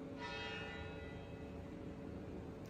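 Church bells ring in New York at midday, a faint, distant peal with a ringing tone that fades across a few seconds, heard alone with no voices.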